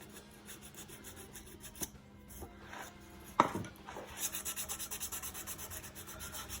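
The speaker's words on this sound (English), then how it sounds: "So sand the 3 grooves best you can" Sandpaper of about 220 grit rubs back and forth in three grooves cut into an apple wood pen blank, making quiet scratchy strokes that become a quicker, even rhythm toward the end.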